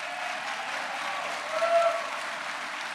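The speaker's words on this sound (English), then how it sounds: "So one other round of applause for JumpFS RCX" Audience applause at an award ceremony, a steady round of clapping from a crowd that swells briefly near the middle before settling back to an even patter.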